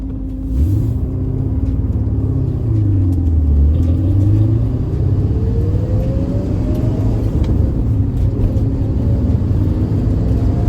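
A 1979 Porsche 928 five-speed slick top drives along with a loud, steady engine rumble and road noise, the pitch sweeping up and down as it shifts and accelerates, heard from inside.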